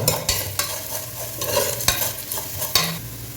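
Chicken frying in mustard oil in a pot for chicken dum biryani, stirred with a spoon: repeated scraping stir strokes come every half second or so over a steady, close sizzle, with no talking.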